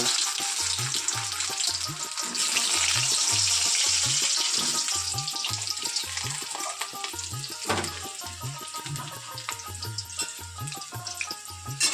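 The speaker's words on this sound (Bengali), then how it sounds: "আমার তেল গরম হয়ে গেছে সিদ্ধ করে আলুগুলো একটু ভেজে নিচ্ছি প্রথমে" Boiled potatoes fry in hot oil for biryani, giving a dense, steady sizzle with crackling and occasional stirring or scraping, close and loud throughout.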